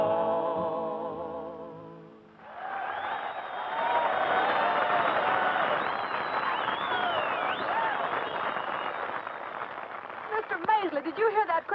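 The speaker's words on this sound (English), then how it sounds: "Mr. Maisley, did you hear that crowd cheering?" Just after a western song ends, a rodeo show crowd breaks into sustained cheering and applause, a dense roar that fills the scene at moderate distance and fades slightly toward the end.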